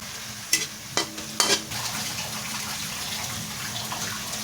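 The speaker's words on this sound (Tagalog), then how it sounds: "Haluin natin mga friends" Pancit noodles being stirred in a pan with a little water and pepper, heard as a few sharp clanks of the utensil against the pan followed by a steady, moist simmering hiss, close and moderately loud.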